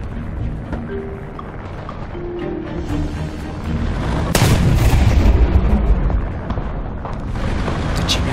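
A KV-85 tank's main cannon fires in War Thunder, a heavy boom bursting out of steady rumbling battlefield noise midway through, then fading back into the low engine drone.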